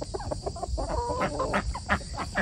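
Backyard chickens clucking in a garden, a steady busy stream of short clucks and murmurs at close range, with no voices over them.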